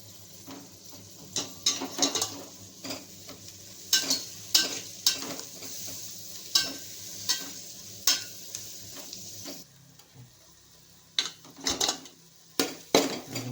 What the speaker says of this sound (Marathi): मसाला चांगलं परतून घ्यावा.